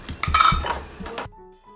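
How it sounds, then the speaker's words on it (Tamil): Coarsely ground homemade onion powder goes into a bottle with a run of close clinks and knocks of a spoon against glass, then a sudden stop into near quiet. "இப்போ இதை நம்ம பாட்டிலில் போட்டுடலாம்"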